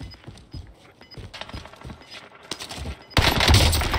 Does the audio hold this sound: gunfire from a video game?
yes